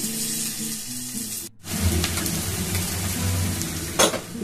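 Chili chicken with turmeric and red chili powder fries in a pan, giving a steady close sizzle broken by a brief pause and stirring scrapes, with no talk.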